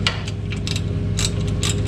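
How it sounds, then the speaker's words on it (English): Close ratchet clicks in a few quick bursts as 18 mm bolts are snugged down on the front hub of a Nissan Titan, the sound dry and metallic against a steady low hum. "I'm just going to slightly tighten these in right now"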